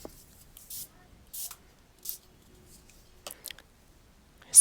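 Several short, breathy spray bursts from a mist bottle over a clear plastic scrap stencil border, each hiss lasting under a second with quiet gaps between, close and moderately loud.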